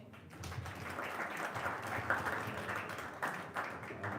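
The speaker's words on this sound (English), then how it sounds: "Let's give them a round of applause" Applause from the audience at a Ward B community meeting, a steady wash of clapping held at a moderate, fairly even level for several seconds with no talk over it.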